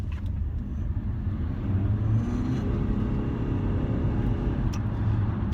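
A Mitsubishi Outlander PHEV's petrol engine fires up under hard acceleration on an open road, a loud, steady droning rumble that swells slightly partway through and holds, heard from inside the car with no talking.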